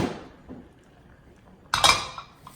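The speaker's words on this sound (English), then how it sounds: "Swivel it around. So the pan gets coated." A frying pan holding avocado oil is swirled on the stove, giving a brief scrape at the start, then a quiet stretch, then a sharp metallic clatter and clink of pan and utensils.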